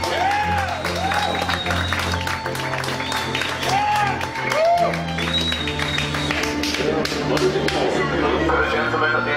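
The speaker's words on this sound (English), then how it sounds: "That round of applause, sir, was entirely for you to thank you for being a smiling human being." Passengers applauding inside a New York subway train carriage, a steady burst of clapping mixed with cheering and voices, with train rumble and tonal squeals underneath throughout.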